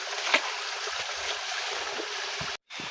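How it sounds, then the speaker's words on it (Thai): Mountain water pours steadily like a small waterfall, feeding a natural pipe line for an avocado garden, a constant close rushing hiss with no talk. "เห็นเสียงน้ำนะครับ เหมือนน้ำตกย่อยๆเลยฮะ"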